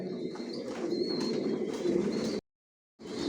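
Racing pigeons coo steadily in a breeding loft, a close, continuous low murmur of several birds with a few faint chirps, cut by a brief silence near the end.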